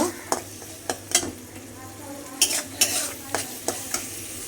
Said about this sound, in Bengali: এবার এর মধ্যে দিয়ে দেবো কাঁচা লঙ্কা আর মটরশুঁটিগুলো দিয়ে ভালো করে কষিয়ে নেব